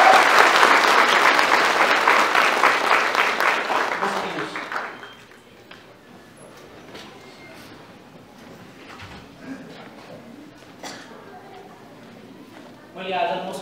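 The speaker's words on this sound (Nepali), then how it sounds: "धन्यवाद दिन्छौँ ताली बजाएर उहाँलाई" A church congregation claps loudly for about four seconds, the applause then fading into quiet room noise with scattered movement and a brief burst of sound near the end.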